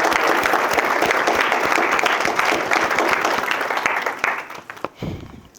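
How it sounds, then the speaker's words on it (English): Wedding guests break into a round of applause during the reception speeches, a dense burst of clapping that carries steadily at close range before thinning out and fading to scattered claps at the end. "So everyone, please join me in a quick round of applause for Jez for his part in today"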